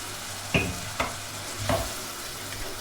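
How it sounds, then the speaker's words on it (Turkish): Onion and tomato paste sautéing in a pan, a low continuous sizzle with three distinct spatula scrapes against the pan, no speech. "Soğan koydum, salça koydum. Kavuracağım bunu."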